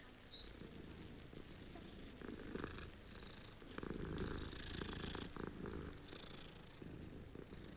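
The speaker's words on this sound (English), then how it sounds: "Hello, cat." A cat in Hogwarts Legacy purrs softly and steadily up close, a low rumbling texture running throughout with faint rustling and no voices over it.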